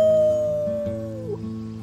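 Characters in Life is Strange 2 give a team howl, imitating a wolf: one drawn-out wavering note, close and loud at first, that slides down and fades over about two seconds.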